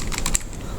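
Quick, close clicks of a computer keyboard as a word is typed in: three or four crisp keystrokes in under a second.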